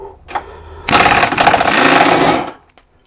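A wrench or impact tool loosens the 21 mm front nut on a Chrysler PT Cruiser front suspension wishbone, giving a loud, continuous mechanical whirr of about one and a half seconds, preceded by small clicks and ending abruptly.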